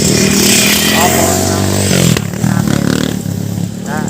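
A motorcycle engine revs loudly and steadily up close on a trail in Timberland, San Mateo, Rizal, with a mechanical rattle, then settles to a slightly quieter idle.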